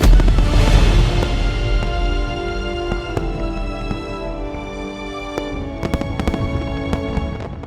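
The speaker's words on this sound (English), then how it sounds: "heading down to Main Street for the evening fireworks" Evening fireworks over Main Street boom and crackle in the distance, a loud opening burst followed by scattered sharp pops and rumbling echoes.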